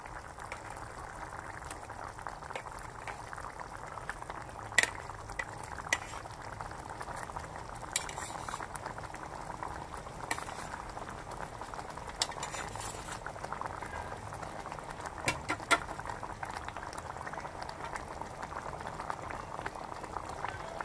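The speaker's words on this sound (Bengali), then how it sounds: "ঝোলটা আমার ফুটে উঠেছে, এবারে মাছগুলো দিয়ে দিচ্ছি।" Fish curry gravy for doi katla boils steadily in a pot, a continuous low bubbling simmer with occasional faint clinks, close and fairly quiet, with no voices.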